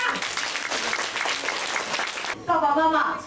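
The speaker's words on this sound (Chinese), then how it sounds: "给你家己一个辛苦的掌声" Audience applause at a 2009 Taiwanese mother-tongue language competition award ceremony, a dense sustained clapping from a crowd that continues throughout, with voices heard over it and a louder burst near the end.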